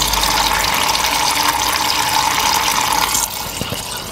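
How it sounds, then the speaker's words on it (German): Water runs through a 1 mm tube into a wildlife and chicken drinker, a loud, steady gurgling rush of filling liquid that drops in level near the end, followed by a few faint clicks. "So, aktuell läuft das Wasser noch durch das 1 mm Röhrchen"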